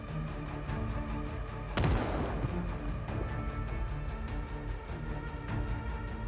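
Shotguns fired by bandits in Project Zomboid, a zombie survival game with heavy population: one loud, sharp blast with a rumbling tail, then a few fainter distant shots over a constant dense game background.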